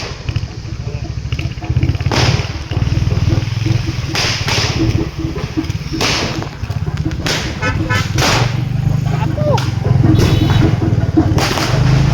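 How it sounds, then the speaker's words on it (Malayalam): Kerala festival fireworks at temple and church feasts bang and crack again and again at irregular intervals, loud and sharp, over the constant drone of a vehicle engine on the road to Thrissur. "പോണ വഴി മുഴുവൻ പൂരവും പള്ളിപ്പെരുന്നാളും ആ വെടിക്കെട്ടൊക്കെ കണ്ട് കണ്ട് പോവാം"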